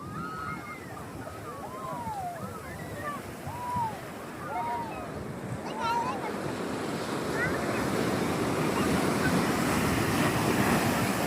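Sea waves break and wash up on Alappuzha beach, building into a steady, loud surf roar with wind buffeting the microphone, while children's excited voices call out over it in the first half.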